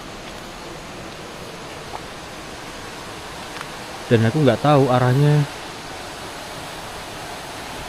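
Steady rushing water from a river flowing along its bank fills the background evenly, with a person speaking briefly over it midway.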